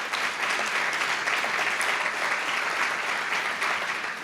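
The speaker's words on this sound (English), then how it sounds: "So a warm round of applause for that." Sustained audience applause at a Hughes Center honors event in 2017, steady and full throughout with no voices rising above the clapping.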